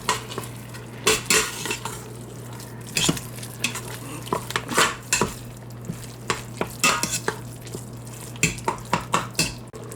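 Ground meat for chili browning in an Instant Pot, with a utensil repeatedly scraping, clacking and stirring against the pot over a soft sizzle, close and irregular.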